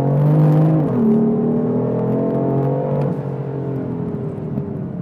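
BMW M4 driven hard through a third-gear corner at Mondello racetrack, its engine note loud and steady with a pitch dip and recovery as it shifts and pulls on, no talk.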